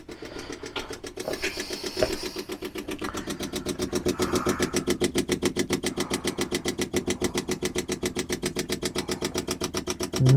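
A Jaguar XJ6 engine cranks and catches, then runs with a fast, rhythmic pulsing idle at moderate volume and close range.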